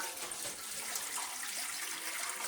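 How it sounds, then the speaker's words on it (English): Water from a pot pours into a smoker's water bowl, a steady splashing gush running continuously and fairly near. "We're going to fill it with water."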